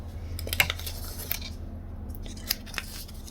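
Sharp scissors clip through interfacing for bag zipper tabs, giving a handful of brief, close snips scattered across a quiet background with a faint steady hum.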